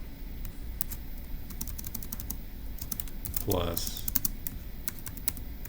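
Scattered computer keyboard taps, close but light, run alongside someone speaking as he enters an answer for a Turing Machine puzzle.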